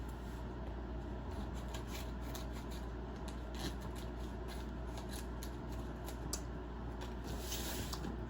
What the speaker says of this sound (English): I'm gonna cut that off.